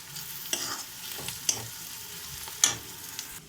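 Ginger garlic paste frying and being stirred in a pan for egg curry, a steady soft sizzle with a few sharp spatula scrapes against the pan, close and fairly quiet.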